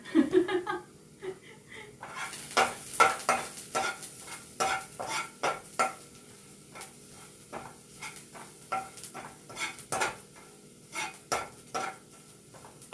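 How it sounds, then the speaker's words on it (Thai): Garlic stir-fries in a pan over lowered heat, a soft sizzle under frequent sharp scrapes and taps of a utensil against the pan, close up and rhythmic throughout. "ผัดกระเทียมให้หอมนะคะ เบาไฟลงนิดนึง"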